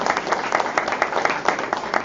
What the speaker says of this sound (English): well, we clap for that, that's okay